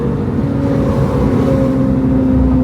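A Porsche 911 fitted with a cheap aftermarket exhaust revs loudly on a downshift, a sustained, droning engine note with a strong steady tone heard close up and alone.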